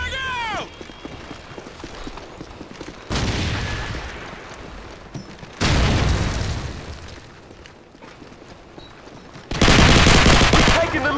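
Call of Duty 4 deathmatch gameplay: bursts of automatic gunfire and loud blasts, including a frag grenade explosion, come in several separate heavy surges with quieter gaps between them, close and dense.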